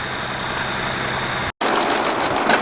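Antique tractor at a Northern Maine farm plow day idles in a steady, even rumble, loud and near, briefly cut off midway before resuming.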